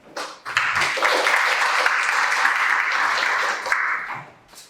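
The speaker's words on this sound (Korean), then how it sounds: "큰 박수로 부탁드립니다." Audience applause in a hall at a youth parliament forum on judicial policy, a steady burst of many hands clapping that swells quickly, holds for about three seconds and then tapers off.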